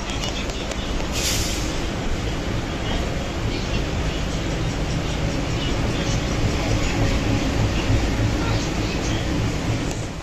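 Interior of the Howrah–Dhanbad Black Diamond Express (22387) running at speed, giving a steady, loud broadband rumble and rattle of carriage and wheels that carries on unbroken for ten seconds.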